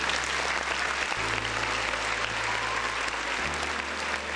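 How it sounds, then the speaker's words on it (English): Sustained round of applause from a crowd, steady and dense from start to finish with no voices over it. "Another round of applause for the folks in the chat."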